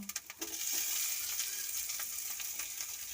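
Onions fry with ginger garlic paste in a pan, a steady close sizzle and hiss with a few scraping stirs of a spoon near the start, no voices.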